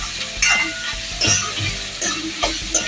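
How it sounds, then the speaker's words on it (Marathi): Chopped onion softening in hot oil in a pan sizzles steadily while a spoon stirs it in repeated scraping strokes, close and fairly loud, with no talk. "इथे कांदा मी 2 मिनटं तेलावरती छान असा नरम करून घेतलाय"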